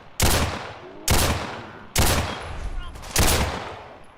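Four loud, sharp gunshots spaced about a second apart, each with a lingering tail, fired in the game Fallout 4 during modded wasteland survival play, with no talk over them.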